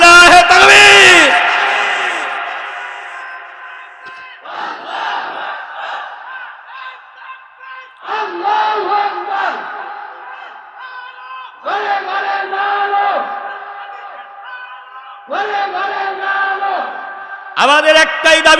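A large crowd at a religious gathering roars the takbir in unison, with several loud, rhythmic chanted calls separated by short pauses and echoing through an amplified hall.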